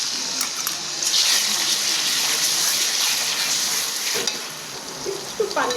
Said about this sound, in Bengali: তেলটা গরম হয়ে গেছে মশলাটা দিয়ে দিই